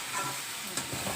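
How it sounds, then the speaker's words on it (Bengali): Vegetables fry in a pan, making a steady sizzling hiss close by, with a few soft stirring scrapes and no speech. "সবজিটা এদিকে প্রায় ভাজা ভাজা হয়ে গেছে।"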